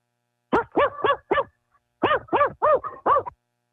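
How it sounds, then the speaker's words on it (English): A dog barks in two quick runs, four sharp barks and then five, fairly close and clear, carried over a call-in line during a Los Angeles City Council meeting, with no talk over it. "Sounded like Mr. Herman's bark."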